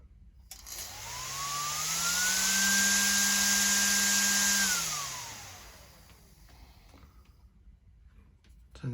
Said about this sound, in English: So that's the blower, which moves the air through the heater.